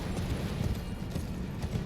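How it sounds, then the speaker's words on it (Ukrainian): A horse gallops in Elden Ring, with a quick, steady clip-clop of hooves pounding fairly near at moderate loudness and a sharper hit right at the end; nobody speaks over it. "Зараз сідаємо туди на коня і скачемо зразу."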